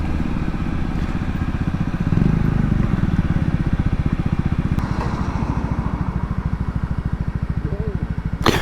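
A motorcycle idles steadily and close by, its pulsing engine running throughout with a slight rise in intensity midway, while people talk over it.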